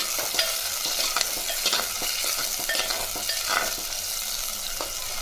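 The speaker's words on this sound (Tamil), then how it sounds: "சேர்த்து நல்லா வதக்கலாம்" A small chopped tomato is sautéed with onions in a pan, producing a continuous close sizzle broken by repeated scraping stirs of a spoon.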